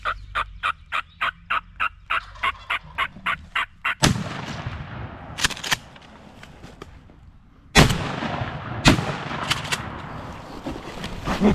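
Wild turkeys gobbling in rapid repeated bursts during an Ohio turkey hunt, then two loud, close shotgun blasts several seconds apart, each booming and trailing off with echoing rumble.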